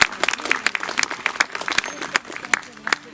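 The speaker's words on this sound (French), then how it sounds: "vous pouvez l'applaudir." Spectators at a sea lion show give scattered, uneven applause after a sea lion's trick, sharp individual claps rising and falling over a few seconds.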